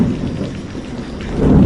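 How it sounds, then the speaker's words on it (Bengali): Steady heavy rain pours down with a deep thunder rumble swelling near the end, loud and close, with no voices. "আরে বৃষ্টি আসার আর সময় পেল না"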